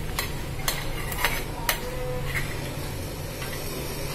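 An electric mixer grinder coarsely grinds horse gram with a continuous whirring roar, broken by sharp rattling knocks of the grains against the jar, all close and fairly loud.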